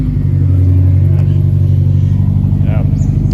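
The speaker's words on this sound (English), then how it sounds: "that's just that rear muffler delete on a cold start" A Subaru Forester with its rear muffler removed idles after a cold start, a loud, steady, rumbling exhaust drone that runs throughout with a brief rev swell near the end.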